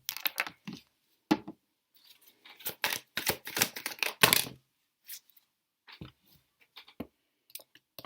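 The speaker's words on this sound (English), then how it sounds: "I'll just grab some more tarot cards actually." Tarot cards being handled and shuffled, giving scattered light papery taps and flicks in short bursts, close and fairly quiet, with brief gaps between.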